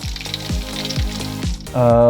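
Marinated catfish frying in hot oil, a loud continuous sizzle with repeated low knocks as pieces are moved, swelling into a brighter, denser crackle near the end.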